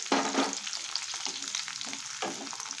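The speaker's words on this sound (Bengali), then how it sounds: "রসুনটা হালকা একটু ভেজে নেব এবার এর মধ্যে দিয়ে দিচ্ছি পেঁয়াজ" Onion frying with garlic and green chillies in a pan on low flame, a soft, continuous sizzle with bursts of stirring and scraping, close by, with no talk.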